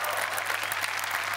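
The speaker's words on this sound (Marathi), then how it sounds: "जोरदार टाळ्या झाल्या पाहिजे." Studio audience at a Marathi comedy show clapping loudly and continuously, a dense sustained burst of applause heard close, with no talking.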